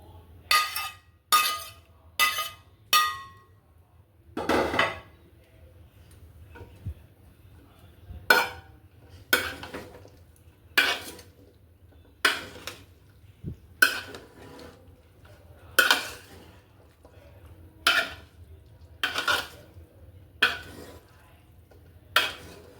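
Rice, carrots and raisins tipped into a pot for Kabuli pulao, with a series of sharp metallic clinks from a spoon striking the pot rim in a steady rhythm, loud and close, with a quiet low hum beneath.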